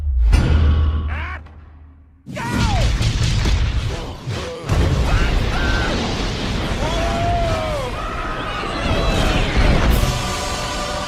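An animated movie explosion tears through a town in a sustained, loud blast of booms, crashes and whooshing debris, with a brief lull after the opening burst before the destruction roars on to the end.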